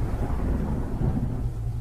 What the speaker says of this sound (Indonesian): apa itu petir?